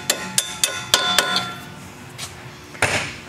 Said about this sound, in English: take a small punch of some kind, lay it on the end of the bolt, make sure you don't mess up the threads, and tap it out